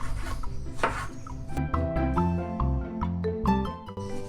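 Knife slicing through a tomato on a cutting board in a home kitchen, a run of short scraping cuts and soft taps in uneven rhythm, close and clear with no talk.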